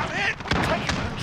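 Gunfire in Call of Duty: Modern Warfare during long-range weapon play, several sharp loud reports over a busy layered game mix with a player talking.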